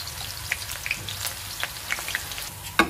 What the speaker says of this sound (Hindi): ऑयल शामिल किया, गरम हो गया। अब इसमें हाफ जो हमने प्याज कट किया था वो शामिल कर देंगे और प्याज को हल्का सा ब्राउन कर लेंगे।